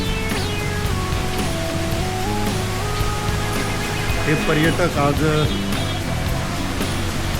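The Bhivatas waterfall, near Kelavan, plunges about 1000 feet, making a constant broad roaring rush that fills the scene while someone talks over it.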